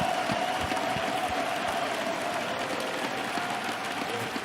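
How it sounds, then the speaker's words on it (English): A large French crowd at an esports finals applauds and cheers in a dense, continuous roar of clapping, close and loud throughout. "the French crowd who was cheering for you all day"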